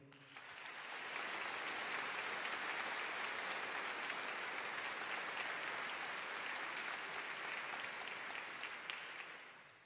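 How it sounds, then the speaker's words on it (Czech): Sustained applause from a large crowd at the final of a classical music competition concert, steady and full throughout, with no voices on top. "Poprosím ještě jednou o krátký potlesk pro ně."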